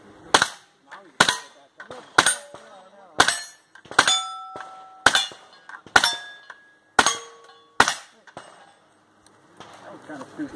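Gunshots ring off steel targets at an outdoor shooting match, about a dozen sharp cracks at a steady rhythm, several followed by a clear metallic ping that hangs briefly.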